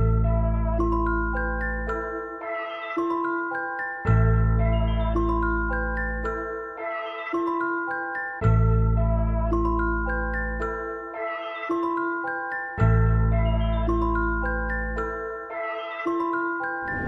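Ambient music sample built in FL Studio, with a sustained bass-heavy chord layer and bell-like melodic tones repeating in four roughly four-second phrases, each swelling in and fading out, steady and clear with no voice.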